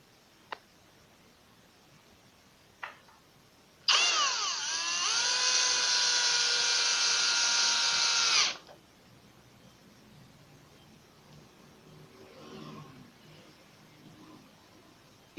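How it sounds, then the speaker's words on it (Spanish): A power drill drives a half-inch self-tapping screw through a metal plate into wood, in one steady high whine about four seconds long, close and loud, with quiet before and after. "Estas pletinas de metal las sujetarán con dos tornillos autoenroscantes de media pulgada"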